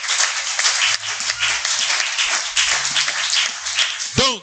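Church congregation applauding during a Sunday sermon, steady broadband clapping throughout, with a brief voice rising near the end.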